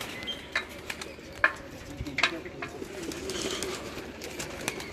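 Paired pigeons in a rooftop cabin coo softly in the background while scattered sharp clicks and taps punctuate the scene, moderately close.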